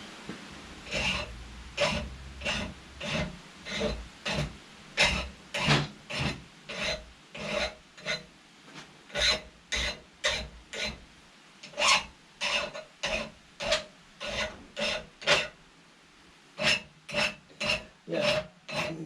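A hand file rasps back and forth across the freshly cut end of a metal tube in a workshop, steady rhythmic strokes repeated dozens of times, close and fairly loud, with no talking.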